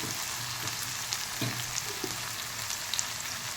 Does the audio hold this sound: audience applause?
no